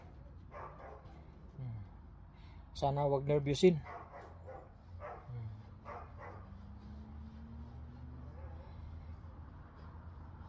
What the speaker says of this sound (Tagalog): Natakot sa busis ng isang aso.